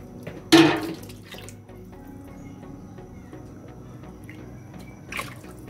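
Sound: ladling water out of pot of chicken soup

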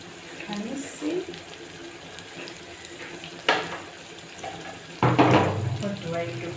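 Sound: tap water running while cooking spinach

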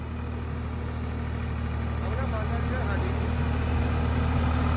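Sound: tractor engine running

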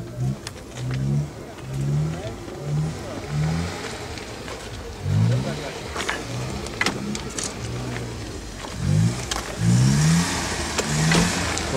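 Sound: car engine running at a car market

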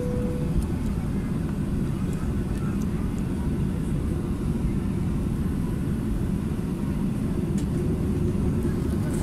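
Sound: airplane taxiing on runway

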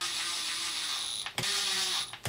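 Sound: impact screwdriver driving screws into a Traxxas Sledge

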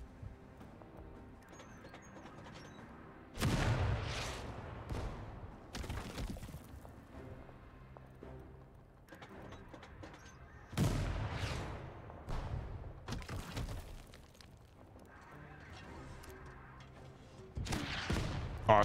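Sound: artillery barrage in the video game Total Tank Generals

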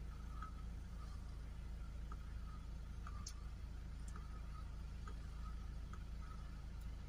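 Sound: car engine idling

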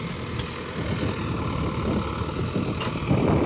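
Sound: Mahindra tractor engine idling

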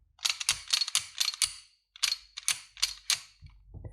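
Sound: pistol slide mechanism clicking

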